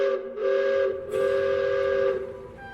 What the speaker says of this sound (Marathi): एक कर्कश शिटी वाजवत इंजिन सुरू होईल. मग धडधड करत आगगाडी रुळांवरून धावू लागेल.